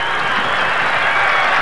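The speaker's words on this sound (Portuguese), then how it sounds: "Aplaudido o jogador Barrett e aplaudida a entrada do Lawrence" A stadium crowd at a 1998 friendly football match between Flamengo and Jamaica applauds a Jamaican goalkeeper substitution, giving a steady, dense wash of clapping and crowd noise that stays loud and even throughout.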